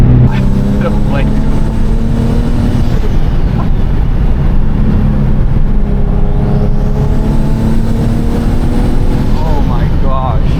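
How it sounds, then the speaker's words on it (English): Turbocharged VQ engine of a Nissan 370Z NISMO heard from inside the car, a loud steady drone with rising and falling engine tones as it spools and shifts down. "The turbo spool and the downshift, oh my gosh."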